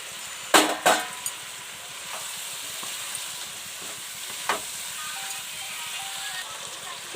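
Chicken curry with fried potatoes is sautéed until the oil separates, making a soft, continuous sizzle with a few sharp clanks of a spatula against the pan near the start and one later.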